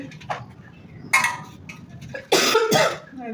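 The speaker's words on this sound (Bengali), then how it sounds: "কাশিরে" A person coughs twice indoors in a home kitchen, short harsh bursts close by, separated by quiet with faint ticking clicks between them.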